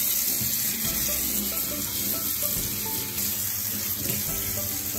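Water runs steadily from a kitchen tap into a sink during rinsing, a continuous close splashing rush with no pauses.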